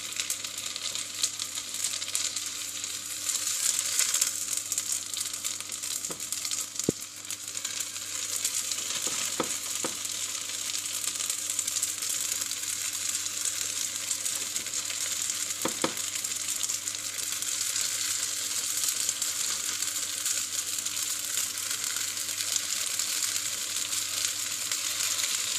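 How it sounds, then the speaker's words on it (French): Sausages sizzle in butter in a frying pan, a steady close crackle with a bright hiss that holds evenly throughout, broken by a few faint clicks of utensils. "Voilà, j'ai mis du beurre. Je mets les saucisses."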